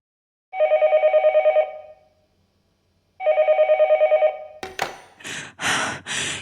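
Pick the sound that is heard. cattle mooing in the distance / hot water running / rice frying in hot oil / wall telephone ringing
wall telephone ringing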